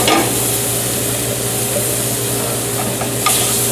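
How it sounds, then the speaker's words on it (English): Food is stirred in a saute pan for pan-seared tilapia in cream sauce with fresh basil. A loud, steady sizzle runs throughout, with a low hum and a brief scrape toward the end. "I'll be stirring my saute pan every so often"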